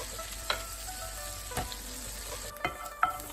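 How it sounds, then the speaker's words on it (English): Mushrooms fry in butter and oil in a pan, giving a steady, even sizzle throughout with a few faint utensil taps over the hiss. "Now while my sauce is reducing on the other element, I'm just going to cook the mushrooms."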